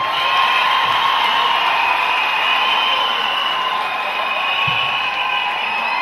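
A church congregation in Cameroon claps and cheers as one dense, loud, continuous roar of hands and raised voices filling the hall.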